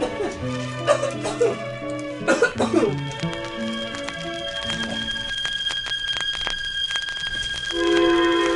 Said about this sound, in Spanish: La tos se le disminuía un poco, pero le seguía. No era como antes, pero siempre tosía.